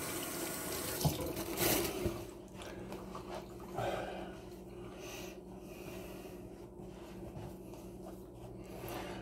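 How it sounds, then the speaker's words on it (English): Water from a kitchen tap runs steadily into a sink as hands are rinsed during pork tenderloin preparation, a soft continuous splashing with a brief louder burst near the start. "rinse my hand off here"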